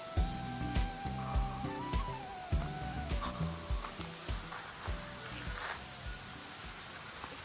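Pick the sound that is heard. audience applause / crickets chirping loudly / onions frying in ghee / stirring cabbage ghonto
crickets chirping loudly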